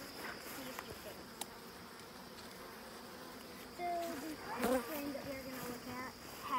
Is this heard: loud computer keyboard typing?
no